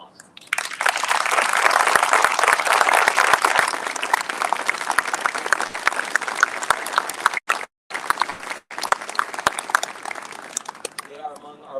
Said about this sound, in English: please stand up for an applause